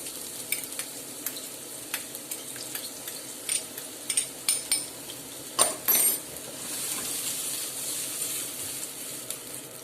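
Onion frying in leftover pork and chorizo juices with garlic, stirred in a pan: steady sizzle with a run of scraping, clinking utensil strokes against the pan, loud and close, no talking.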